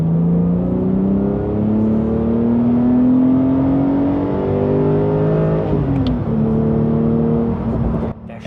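A Porsche 911 Sport Classic engine with manual gearbox revs hard and climbs in pitch through the gears, a loud sustained whine with a brief dip at a shift before rising again, close up.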